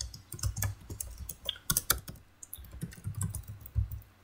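Steady typing on a computer keyboard while writing code, with quick, close key clicks and occasional heavier thumps from the larger keys, continuous and alone with no talking.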